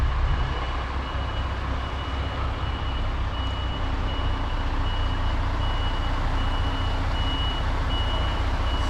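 A large vehicle backing up on a drive to Lutterworth, its reversing beeper sounding steadily over a loud, continuous rumbling engine drone from inside the cab.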